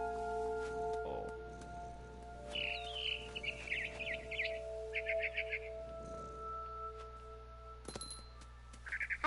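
Barn swallow chirps from a video game, bright short twittering bursts repeated in clusters over a steady low ambient hum, fairly quiet and close.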